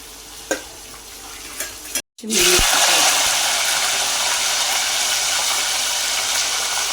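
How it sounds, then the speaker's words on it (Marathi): Paneer hits a hot pan after a brief silence and breaks into loud, steady sizzling frying that carries on close by after a few light clinks. "पनीर फ्राय करून घ्यायचं, फ्राय झालेलं आहे"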